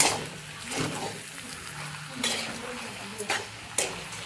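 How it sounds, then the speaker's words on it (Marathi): A spoon scraping and stirring a potato filling with fresh coriander in a pan, soft scrapes and clinks in irregular strokes, fairly quiet and close, with faint voice in the background. "थोडंसं आपण कोथिंबीर घालूया आणि परत आपण सगळं मिक्स करून घेऊया"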